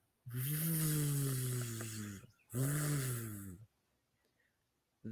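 A voice imitates a rumbling van engine in two long, buzzing bursts separated by a short pause, loud and close.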